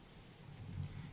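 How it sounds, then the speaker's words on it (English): Steady rain drums against a window in a visual novel game scene, a continuous wash of patter with a low rumbling undertone that swells slightly toward the end. "Kinzo noticed the sound of the raindrops beating on the window. It had finally started to rain."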